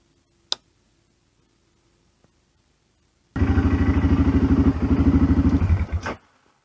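A BMW F650 GS motorcycle engine starts up after a few faint clicks and runs with a steady, close, throbbing single-cylinder chug for about three seconds before cutting off.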